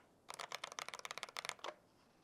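Rapid clacking keystrokes from an IROK FE87 budget mechanical keyboard with untouched stabilizers, about twenty close, crisp clicks in a quick steady burst, then quiet.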